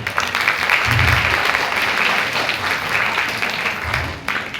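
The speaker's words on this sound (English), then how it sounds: "a round of applause for the teachers who have done a tremendous job for the children" Sustained audience applause for teachers at a junior Independence Day school celebration, dense steady clapping from a crowd throughout, fairly loud and close.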